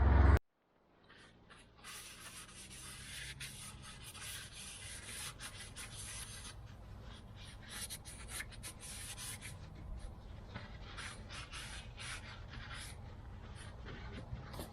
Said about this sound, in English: I have to find my brake cleaner